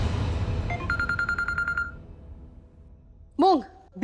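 A telephone is dialed, giving a rapid run of short, evenly spaced keypad beeps in a quiet room, followed after a pause by a brief, louder electronic tone.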